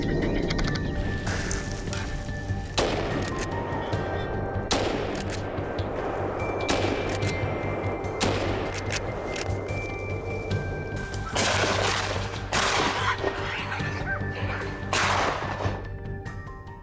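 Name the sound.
rifle gunshots during boar hunting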